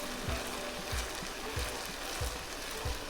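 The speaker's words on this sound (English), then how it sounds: "we're just going to keep stirring it and stirring it until that liquid evaporates" Basil risotto stirred in a pan, a soft steady simmer and sizzle with a low scraping stroke repeating about every 0.65 seconds, close and fairly quiet.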